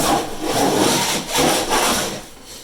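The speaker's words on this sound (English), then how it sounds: "use a straight edge to check for any bumps in the plaster" Steady broadband scraping as a straight edge is dragged back and forth over rough plaster on a wood heater hearth, close and continuous with slight swells.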